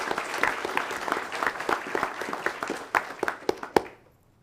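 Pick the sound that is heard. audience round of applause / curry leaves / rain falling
audience round of applause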